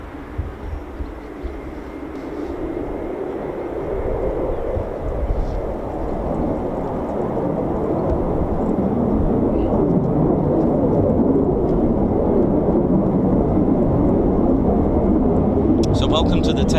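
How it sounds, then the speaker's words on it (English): A C-5M Super Galaxy heavy military transport approaches, its deep jet roar swelling from moderate to loud and continuous, with a voice speaking over it. "We've got a C-5M Super Galaxy heading this way."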